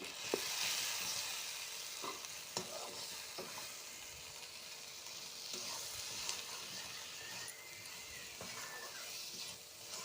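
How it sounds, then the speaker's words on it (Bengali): Katla fish masala frying in a pan with chili powder and salt, a steady soft sizzle broken by scraping stirs and occasional knocks of the spatula. "দিয়ে দেবো এবার লঙ্কার গুঁড়ো, দিয়ে দেবো লবণ, দিয়ে এবার কষাবো এটাকে।"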